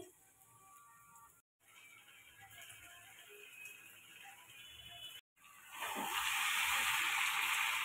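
Eggplant pieces dropped into a hot oiled pan for aloo begun posto, a quiet background of cooking noise and faint clatter that suddenly bursts into a loud, steady sizzling hiss for the final seconds.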